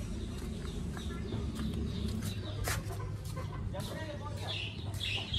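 Hens clucking and squawking in bursts over a steady background hum, with a voice talking faintly underneath.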